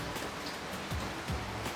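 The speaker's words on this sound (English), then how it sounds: "I just love the sound of the rain on the clear roof" Steady rain pattering on a clear roof over a bathroom with greenery below, a soft continuous hiss with a few faint low thumps, moderately quiet and without voices.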